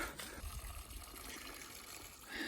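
Water trickling and dribbling off a leaf into a mountain stream along the Appalachian Trail near Big Firescald Knob, a soft, close, continuous patter with no voices.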